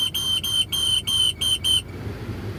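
A car air conditioner whistles in a steady, high-pitched pulsing pattern, about six short bursts with brief gaps, then stops abruptly, leaving a low hum of background rumble.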